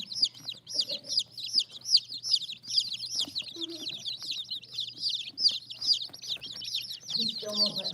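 Chickens cluck and chirp close by in quick, overlapping bursts that keep going throughout, with a faint low hum underneath.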